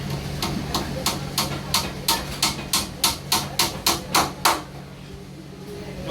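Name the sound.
hammering wooden strip on main door in carpentry workshop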